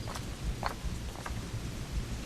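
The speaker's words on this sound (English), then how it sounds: "Starting to rain." Rain in the video game Assassin's Creed IV Black Flag, a steady hiss of falling water with a few soft rumbles and brief brighter spatters, moderately quiet and continuous without talk.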